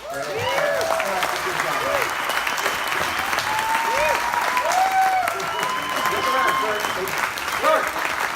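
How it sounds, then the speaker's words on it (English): An audience applauds a guest who has just finished speaking, with sustained, dense clapping throughout and voices calling out over it. "They're applauding you."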